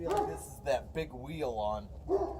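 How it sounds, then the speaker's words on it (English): A dog barks and yips a few times in a backyard while someone talks over it; the short barks come in quick bursts, close and fairly loud, mixed with the speech. "That's my dog."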